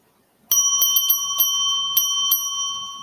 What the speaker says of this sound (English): will just get to hear the bell again